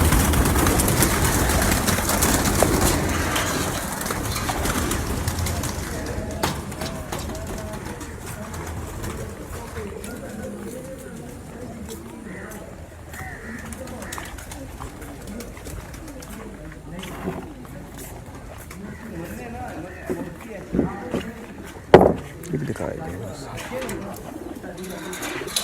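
High-flying pigeons coo softly in the background amid murmuring voices and general ambient noise, with a few louder thumps near the end.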